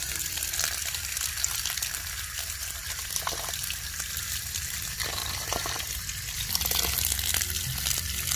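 Fresh mushrooms are washed in water for a village-style mushroom gravy, giving a steady, close rush of running and splashing water with brief swishing swells throughout and no talking.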